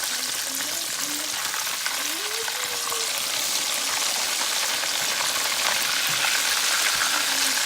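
Catfish fries in a pan over medium heat, making a steady, loud crackling sizzle throughout, with a few faint, brief vocal sounds in the background.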